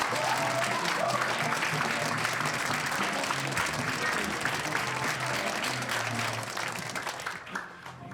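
Loud, sustained applause fills a small live music venue as the audience welcomes the next performer to the stage. The clapping holds steady, then thins out and fades near the end.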